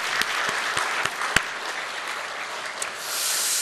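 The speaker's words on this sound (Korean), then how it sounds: "하나님께 영광의 박수 올리겠습니다" Congregation applause during an Easter Sunday church service, a steady wash of clapping with a few sharp, distinct claps standing out near the start, swelling slightly toward the end.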